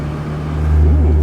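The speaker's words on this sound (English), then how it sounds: "So we have this Maserati that needs to be driven." Maserati Ghibli engine in sport mode, a loud, close, low rumbling drone that rises slightly in pitch as it revs, heard alone without talk.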